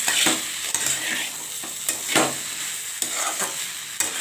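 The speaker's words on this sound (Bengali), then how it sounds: "ততক্ষণ আমি লো ফ্লেমে দিয়ে আমি আস্তে আস্তে কষাবো" A cauliflower, potato and egg curry sizzles in a pan on a low flame, with a continuous frying hiss and repeated stirring scrapes coming at a loose, regular pace, close and fairly loud.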